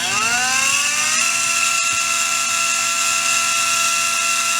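A REDS Racing VX4 PRO Stock 17.5T brushless motor spins up at 1.5 amps with a rising whine that quickly settles into a steady, loud high-pitched tone, broken by a couple of faint clicks.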